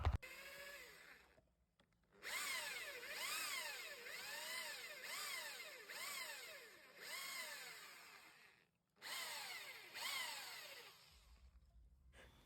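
A drill with a 6.5 mm bit bores out a stripped bolt hole on a motorcycle, running in several bursts with rising and falling pitch as it bites, separated by brief pauses.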